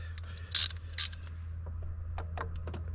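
A ratchet on a 13/16 deep socket loosens the PCV valve on a 2014 Kia Rondo 2.0 engine, giving two short loud ratcheting bursts followed by scattered faint clicks over a steady low hum.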